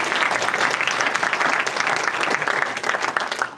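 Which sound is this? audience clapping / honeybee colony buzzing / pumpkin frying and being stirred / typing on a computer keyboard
audience clapping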